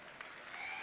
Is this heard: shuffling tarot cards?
no